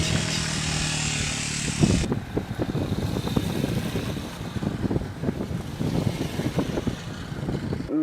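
A wildlife rangers' motorcycle rides through snow leopard country in the mountains, its engine throbbing close while wind buffets the microphone, which is heaviest for the first two seconds.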